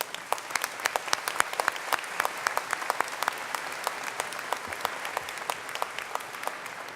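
An audience at a spring university commencement ceremony claps, a scattered patter of individual hand claps over a steady wash of applause that holds at a moderate level throughout, with no talk.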